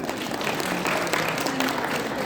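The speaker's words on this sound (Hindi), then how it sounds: "हमारे प्रिंसिपल सर के लिए जोरदार तालियां।" A school audience claps for the principal, a brief burst of many hands applauding together, fairly faint and somewhat distant, with scattered voices mixed in.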